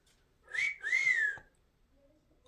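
A pet parrot whistles two rising-and-falling notes, clear and close in a quiet bathroom, then falls silent apart from faint background sounds.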